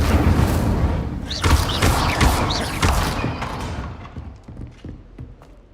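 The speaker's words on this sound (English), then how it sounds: "Incendio! Setting things ablaze is certainly cathartic." Incendio fire spell cast in the Hogwarts Legacy game, loud bursts of crackling, whooshing flame and impacts stacked over a dense rumbling background that fades toward the end.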